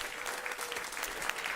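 A crowd at a food systems conference applauds the WNYC production team, dense even clapping sustained for over a second at a steady level with no speech over it.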